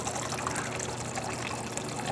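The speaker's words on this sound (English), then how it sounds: "Starting with the hot water. As you can see, steady stream coming out of the machine." Hot water runs in a steady stream from a DeLonghi espresso machine fitted with a new Mechano valve, making a continuous close trickling, pouring hiss with no breaks.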